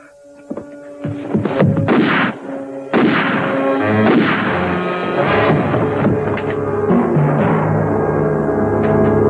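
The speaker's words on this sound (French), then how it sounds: "On dirait des coups de feu." Several sharp, booming gunshot blasts ring out in a dramatic action scene, arriving as separate bursts over a steady hum and sustained music.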